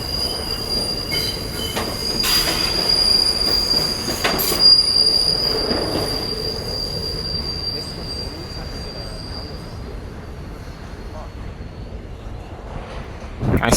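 An R211 D subway train lets out a sustained high metallic wheel squeal for several seconds, over a rumbling rail roar. The squeal fades out and the train keeps rolling nearby.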